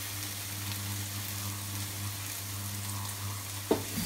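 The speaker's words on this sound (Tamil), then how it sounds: "இப்போ மஷ்ரூம் வந்து இந்த அளவுக்கு ஃப்ரை ஆகிடுச்சு" Mushrooms fry in a pan with soy sauce, a soft steady sizzle under a low kitchen hum, close and quiet, with a brief clink near the end.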